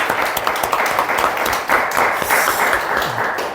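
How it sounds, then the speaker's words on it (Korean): Congregation applause at a Sunday church service in Korea, a steady wash of many hands clapping throughout, moderately loud with a faint voice or two underneath. "다시 한번 격려와 축복의 박수를 한번"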